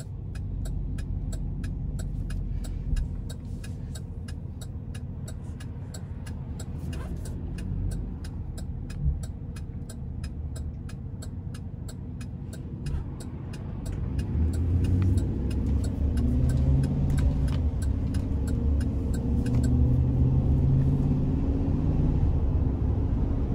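A 2020 Explorer GMC Savana 2500 conversion van drives along with a steady engine hum and road rumble from inside the cabin, then the engine swells louder and deeper as it accelerates.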